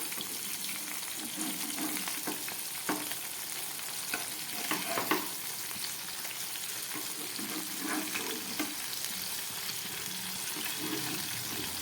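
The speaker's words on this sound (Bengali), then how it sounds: "এটাকে একটা ঢাকা দিয়ে একটু ভাজা করবো" Prawn and poppy seed fritters wrapped in bottle gourd leaves fry in a pan with a steady, even sizzle, joined now and then by light utensil clicks and stirring sounds.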